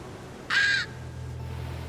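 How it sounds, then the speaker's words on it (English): A striated caracara, a bird of prey of the Falkland Islands, gives a single short harsh call, fairly close and clear over a low steady wind-like background rumble. "a unique bird of prey, the striated caracara"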